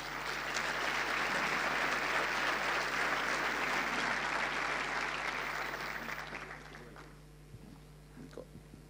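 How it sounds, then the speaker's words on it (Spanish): An audience at an Endeavor entrepreneurship event in Córdoba, 2017, applauds as two people come up on stage. The clapping is dense and steady, then thins and fades out near the end. "Un aplauso, por favor, para los dos."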